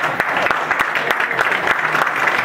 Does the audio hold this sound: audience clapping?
yes